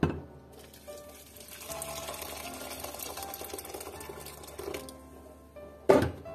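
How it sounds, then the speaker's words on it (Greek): Water running from a tap into a pot of wheat for a traditional Greek Saint Barbara sweet, a steady splashing fill lasting several seconds, then a louder clunk at the end. "Σε μια κατσαρόλα θα ρίξουμε το σιτάρι μας και θα βάλουμε τόσο νερό όσο να σκεπάσει το σιτάρι."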